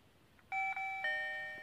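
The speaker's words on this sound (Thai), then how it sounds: "มาในส่วนของกริ่งของเรานะครับกด แช่ไว้นะครับแป๊บหนึ่งให้ไฟมันขึ้น" A Digoo DG-XYA smart video doorbell button is pressed and held, and the unit chimes an electronic ding-dong. The tones are clear, sustained and fairly close, with no talk over them.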